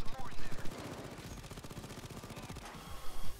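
Turret gunfire in the video game Payday 2: a rapid, rhythmic stream of sharp automatic shots, fairly close and continuous, with occasional heavier thumps and some voice underneath.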